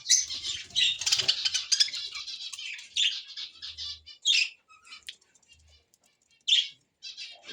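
Two pairs of budgerigars chirp and squawk at close range in a bird enclosure. Their shrill calls come in busy overlapping bursts at first, then scattered single squawks separated by short quiet gaps.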